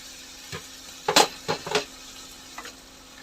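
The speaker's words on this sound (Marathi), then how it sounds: "आता आपण भाज्या एकदा हलवून घेऊया" Steamed mixed vegetables for a bhogi bhaji stirred in a pan with a spoon, giving a few short scraping and sizzling strokes, close and fairly clear, with brief pauses between them.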